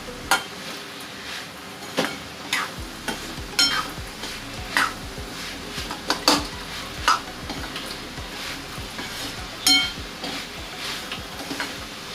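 Guar bhaji stirred in a pan over a medium flame, a low sizzle under repeated sharp spatula knocks and scrapes against the metal pan, close and intermittent, with no talking.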